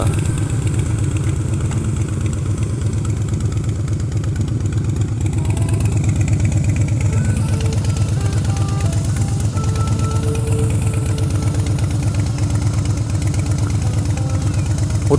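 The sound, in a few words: motorcycle engine idling loudly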